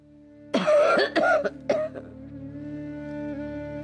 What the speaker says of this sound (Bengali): ওই দেখ, দেখেছিস মায়ের কাশিটা?